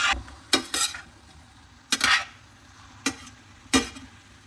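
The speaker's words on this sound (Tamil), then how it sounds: "இந்த சூட்லேயே இன்னும் கொஞ்சம் நேரம் வறுக்கட்டும் கறியை ஒரு தடவை கலரி விட்டுக்கலாம்" A spoon stirs and scrapes vegetable curry as it roasts in a hot pan, with four distinct close strokes and a faint sizzle in the quiet gaps between them.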